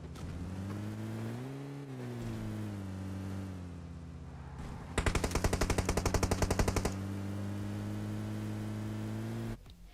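A burst of rapid automatic gunfire in PUBG Mobile crackles over a steady droning engine hum, lasting about two seconds mid-clip before the hum continues alone.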